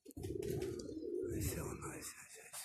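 Pigeons coo in a soft, rolling call close by, a single drawn-out vocalization fading near the end.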